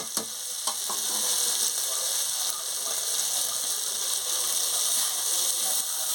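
Water spinach greens stirred in a pan of frying garlic and chili, with a loud continuous sizzle and repeated scraping of a spatula against the pan, close and alone.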